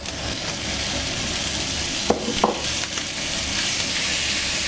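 Salmon, pork and garlic mixed together in a big bowl for a Filipino dish, giving a steady wet stirring and squelching texture with a couple of brief clinks near the middle and no talk.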